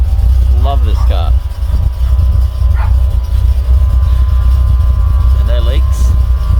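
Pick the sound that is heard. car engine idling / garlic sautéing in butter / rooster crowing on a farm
car engine idling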